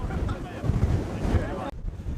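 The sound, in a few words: strong wind blowing at a volcanic crater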